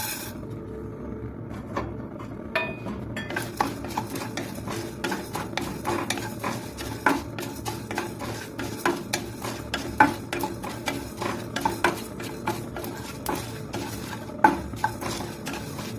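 Coriander and cumin seeds dry-roasting in a pan, stirred with a utensil that makes repeated light clinks and scrapes against the metal in an irregular rhythm, close and steady throughout.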